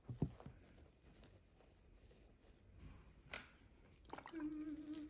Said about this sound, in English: we're just gonna sprinkle a little bit of water